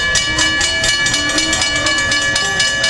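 Amtrak train 774 rolls past at San Juan Capistrano, a loud close rumble with rhythmic clacking of wheels over rail joints and a faint tonal ring throughout.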